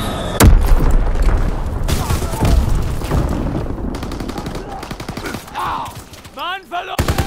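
Gunfire from the World War II shooter game Call of Duty: WWII: dense, loud bursts of rifle and machine-gun shots mixed with heavy booms, easing toward the end into scattered sharp cracks.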